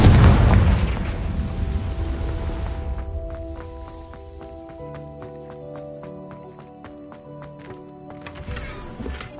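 Confringo fire spell exploding in the video game Hogwarts Legacy: a loud, deep boom that rumbles and decays over a few seconds, followed by quieter musical chimes and game effects.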